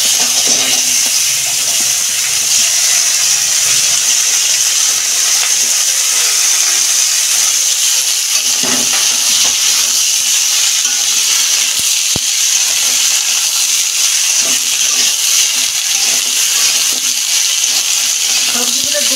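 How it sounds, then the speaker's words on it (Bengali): Mixed vegetables, including eggplant, fry for a fish curry, giving a loud, unbroken hiss and sizzle close by, with a few faint knocks. "সবজিগুলো 2 মিনিট আমি ভেজে নিই"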